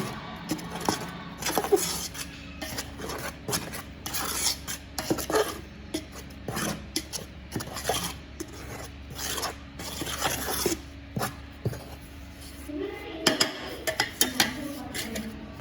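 Dough for pinnal paniyaram sweets mixed by hand in a bowl, a steady run of close rubbing and rasping scrapes in uneven strokes, with a few louder knocks against the bowl.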